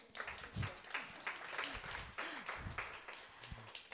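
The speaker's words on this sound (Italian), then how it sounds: "Fate l'applauso." Applause rises from a festival audience at a reading event, moderate and steady clapping spread across the room, with a few low voice sounds or murmurs mixed in.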